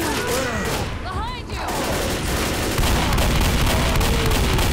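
Rapid gunfire bursts from the video game Left 4 Dead rattle loudly and continuously through the scene, mixed with game effects and a rising roar of shooting near the end.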